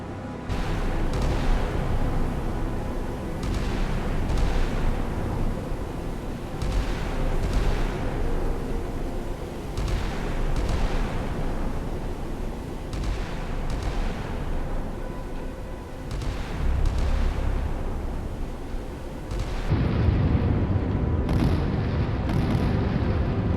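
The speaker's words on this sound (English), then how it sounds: "Use those 5-inch guns." Naval 5-inch deck guns firing in the Sea Power naval combat game, a long run of heavy booming shots roughly every second or two, loud and rumbling, with a sharper burst near the end.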